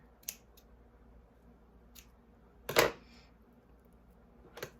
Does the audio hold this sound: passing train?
no